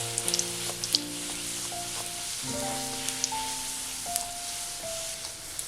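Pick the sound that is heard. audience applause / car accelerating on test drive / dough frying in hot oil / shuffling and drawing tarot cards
dough frying in hot oil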